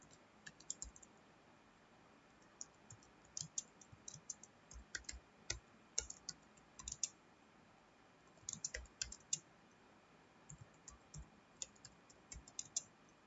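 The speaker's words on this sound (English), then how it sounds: "now we'll type the program" Computer keyboard keys tapped in irregular bursts and pauses while an HTML program is typed into Notepad, soft close clicks with no talking.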